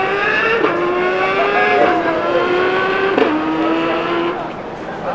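A voice imitates a car engine pulling hard through quick gear shifts: a rising buzzy drone breaks three times with short shift blips, loud and close.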